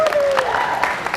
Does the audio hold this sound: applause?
yes